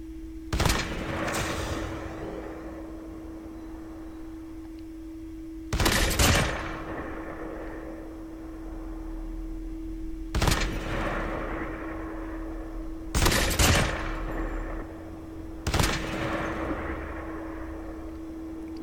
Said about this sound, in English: This is the hit effect of Mythic Rytec that has explosive mags.